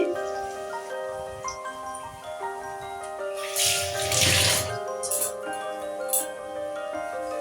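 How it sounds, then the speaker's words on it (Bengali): Raw papaya pakoras dropped into hot oil give a brief burst of sizzling bubbling in the middle, over steady background music. "তেল গরম হয়ে গেল এবারে এক এক করে পকোড়াগুলো দিয়ে দিচ্ছি তেলে"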